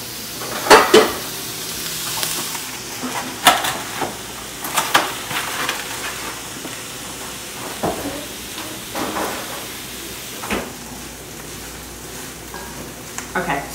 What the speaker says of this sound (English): while the garlic is cooking within the mixture